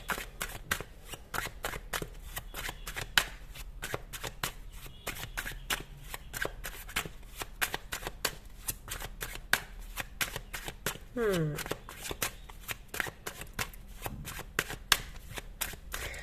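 Tarot cards are shuffled by hand in a long run of quick, crisp riffles and flicks, close and fairly soft, with a brief riffle-bridge flutter near the middle.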